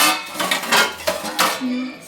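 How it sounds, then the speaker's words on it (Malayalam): Dishes, pots and utensils are washed at a home sink, with close, loud clattering and scraping of metal and ceramic in short irregular bursts. "മമ്മിക്ക് ഇവിടെ കൈ പറ്റില്ലാത്ത കാരണം ഞാൻ കുറച്ച് പാത്രങ്ങൾ ഞാൻ ഇവിടെ കഴുകും"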